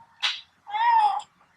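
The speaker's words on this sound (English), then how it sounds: "I don't know if you can hear, but Sushi is meowing underneath me." A pet cat named Sushi gives a short sharp chirp and then a drawn-out meow close by, begging for attention in a quiet room.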